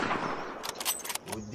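A hunter's rifle shot in the field, a few sharp cracks clustered close together over a steady hiss of background noise, moderately loud and distant-sounding, with no clear speech.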